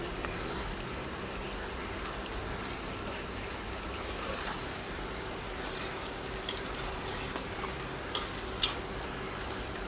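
Chicken pieces fry in a pan with golden-browned onions for a desi okra chicken curry. A steady, fairly faint sizzle hisses throughout, with a few soft clicks near the end.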